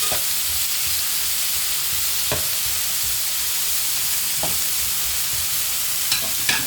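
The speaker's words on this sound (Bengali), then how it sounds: "কিছুক্ষণ পর পর এভাবে লাইরে সাইরে পটলগুলো সিদ্ধ করা লাগবে।" Pointed gourd (potol) pieces sizzle steadily in a hot pan, a loud continuous frying hiss broken by a few scraping stirs, close with no talking.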